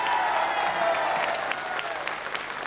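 Studio audience on a 1993 French regional TV show applauding for a performer named Rosine, a dense steady wash of clapping hands at moderate level with no talk over it.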